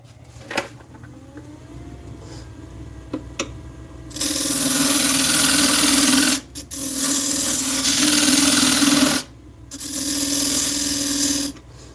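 A wood lathe cutting a recess in punky spalted maple, heard as several sustained bursts of loud, harsh scraping and rasping, separated by short pauses, over a low motor hum.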